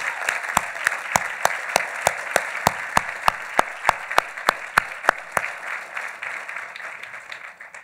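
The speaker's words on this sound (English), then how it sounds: "please join me in a round of applause for Trustee Fenton." Audience applause at a graduation ceremony, a crisp steady run of rhythmic clapping with individual sharp claps cutting through the massed patter, slowly thinning out toward the end with no voices.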